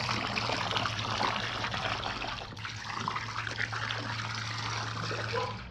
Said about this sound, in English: I'm going to go ahead and use 2 gallons of liquid chlorine and pour it in the pool here.